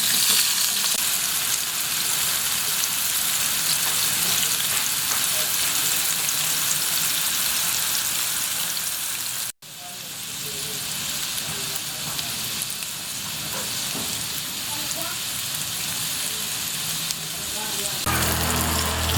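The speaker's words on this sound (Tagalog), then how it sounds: "haluin natin sila hanggang tuluyan ng mas silang maging toasted" Food fries and is stirred in a pan until toasted, giving a loud, continuous sizzle with scraping stir sounds throughout, briefly cut off once midway before the frying resumes.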